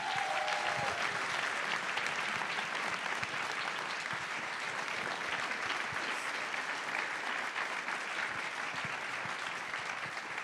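Sustained applause from an audience welcoming guests at an author talk, a dense, even roar of clapping held for several seconds at moderate level without pause.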